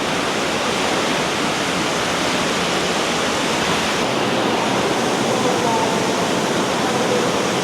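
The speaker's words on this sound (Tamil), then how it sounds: "அந்த காதில் விழுந்த அந்த தண்ணி சத்தம் இதுதான்" Loud, steady roar of rushing water, a continuous broadband wash like a nearby waterfall, with no pauses or voices.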